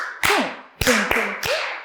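Four sharp hand claps land in an uneven beat during a salsa Zumba dance class, close and loud, with a faint voice-like tone ringing between them.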